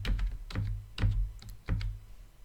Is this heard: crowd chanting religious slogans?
no